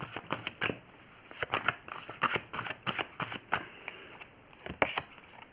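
Tarot cards being shuffled and dealt out one by one, giving a run of soft, close papery flicks and slaps in uneven bursts, with no voice over them.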